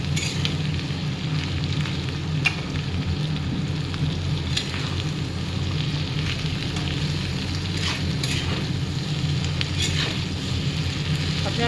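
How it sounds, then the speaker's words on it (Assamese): Small boiled potatoes seasoned with salt and turmeric sizzle steadily in a pan of hot oil while being stirred, a dense, even crackle with occasional sharper scrapes and no voices. "এতিয়া মই ভালদৰে লৰাই দিম।"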